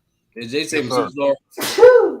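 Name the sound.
sneeze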